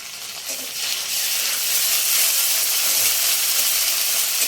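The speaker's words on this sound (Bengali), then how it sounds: "এবারে আদা রসুন বাটা দিয়ে আবার একটু ভালো করে ভেজে নিতে হবে।" Ginger-garlic paste fries in hot oil with onions browned in a pan, giving a loud, steady broadband sizzle that swells after the first second and holds without a break.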